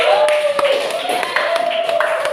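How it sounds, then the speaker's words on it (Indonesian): A class claps for group 1 after their presentation, a short steady patter of hands close by with a voice talking over it. "beri tepuk tangan kepada kelompok 1"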